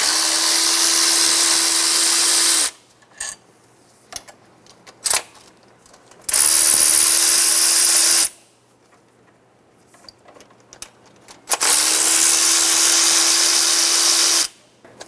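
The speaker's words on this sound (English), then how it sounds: "We're going to remove the two 12mm bolts and the two 12mm nuts for the throttle body." A power tool whirs in steady, loud bursts of a few seconds each while 12mm bolts and nuts come off the throttle body of a 2000-2006 Toyota Tundra, with quieter clicking and handling noises between the runs.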